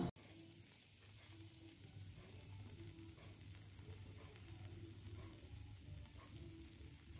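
Steady bubbling sizzle with a low crackling texture, continuous and close, as karantika chickpea batter simmers in a hot dish in the oven.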